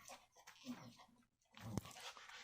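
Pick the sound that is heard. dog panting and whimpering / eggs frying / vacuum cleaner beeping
dog panting and whimpering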